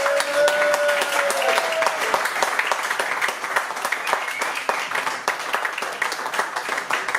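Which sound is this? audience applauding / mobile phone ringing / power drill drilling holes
audience applauding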